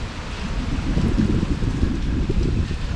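Gusting wind from Hurricane Ian buffets an uncovered microphone, a loud continuous low rumble with fluctuating intensity and no speech.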